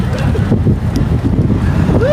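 Strong wind buffets a microphone outdoors on a cold night in South Korea, a loud, continuous low rumble with gusty fluctuations and a voice faintly mixed in.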